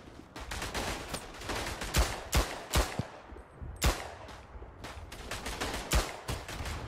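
Gunshots crack in the World War I trench shooter Verdun, a rapid, irregular volley of loud, close reports with several heavy booms layered over constant battlefield din.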